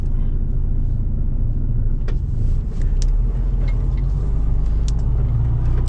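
Steady low road rumble and engine drone from inside a truck cab travelling on a busy road between Germany and the Netherlands, continuous and fairly loud with no one talking.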